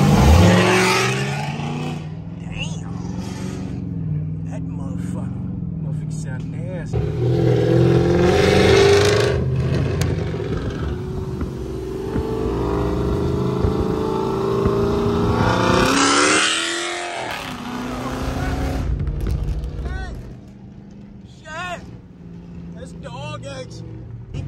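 A 2008 Dodge Charger with long tube headers roars along a highway at night, its engine droning steadily and surging in louder revs, with people talking over it throughout.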